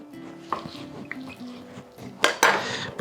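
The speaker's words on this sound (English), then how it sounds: "Chop up the salmon, the remaining salmon." A knife clinks and taps against a board and bowl while remaining salmon is chopped up, a close, irregular series of light knocks and scrapes ending in a couple of louder clatters.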